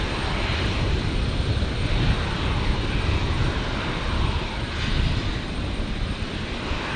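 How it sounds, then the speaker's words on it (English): A Qantas Link Embraer 190 pushes back at Brisbane Airport, heard as a steady, broad jet-engine roar that holds at an even level throughout, with no voices over it. "So Embraer 190 down there, just pushing back the Qantas Link."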